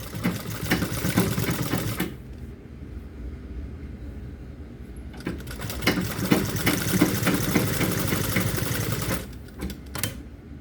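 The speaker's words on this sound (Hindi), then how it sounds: "वो मैं सिलाई जोड़ रही हूँ" A sewing machine stitches the seams of palazzo pants in two sustained close bursts, each a rapid rhythmic chatter. A short pause falls between them, and a brief spurt of stitching comes at the end.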